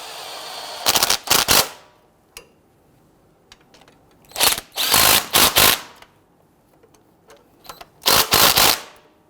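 A ratchet snugging down the starter bolts on a 2007-2014 Cadillac Escalade 6.2L V8, heard as three close bursts of rapid clicking separated by quiet pauses, with a few faint taps between them.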